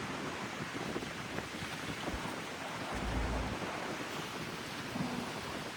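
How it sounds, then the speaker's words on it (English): Steady surf and wind churned up by Tropical Storm Bertha at a marina, a constant broadband wash of waves with gusty wind noise buffeting the microphone, moderately loud and unbroken. "Got a little tropical storm Bertha out there stirring up right now. Got the water all kicked up pretty good."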